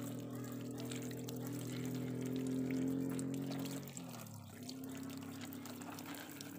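Liquid fertilizer is poured to water porang plants growing in polybags, a soft, steady splash and trickle heard close but faint, with a brief shift in the flow partway through.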